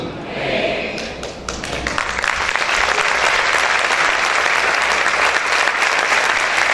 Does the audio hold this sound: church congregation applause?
yes